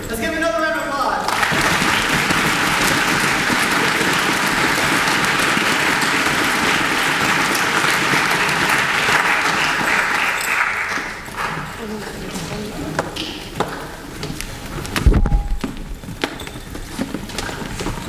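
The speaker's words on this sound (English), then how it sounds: "Let's give another round of applause." Loud, continuous applause from a school spring orchestra concert audience rolls on for about ten seconds, then fades into scattered claps, shuffling and a sharp thump near the end.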